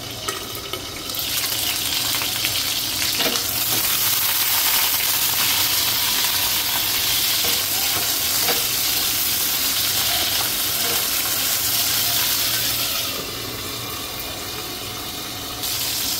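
Ivy gourd (dondakaya) frying in oil in a covered pan gives a steady, dense sizzle that holds at an even level for the whole stretch and drops slightly near the end, with no talking.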